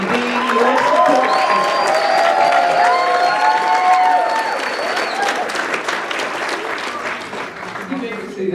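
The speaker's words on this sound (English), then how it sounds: "we ask that you give these people around you an applause, a hoop, and a holler" A graduation banquet crowd breaks into sustained applause with cheering, whoops and hollers layered over the clapping, loud at first and gradually easing off over several seconds.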